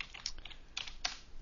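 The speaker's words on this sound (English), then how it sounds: "by typing medals into the console, I can see that yes, there is data there" Fingers tap keys on a computer keyboard, a quick run of soft, close clicks in an irregular rhythm, heard alone in a quiet room.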